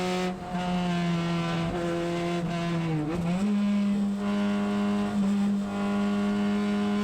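Car taking a fast bend on a road, engine holding a steady, close tonal drone that dips briefly mid-corner then recovers, alone with no voices.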